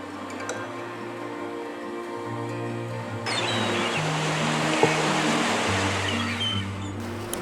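Sea waves wash onto the white-sand beach of Saint Martin's coral island in Bangladesh, a steady rushing surf under sustained musical tones that grows fuller and louder partway through.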